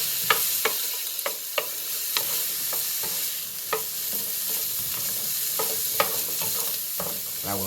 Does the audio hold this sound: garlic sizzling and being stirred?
yes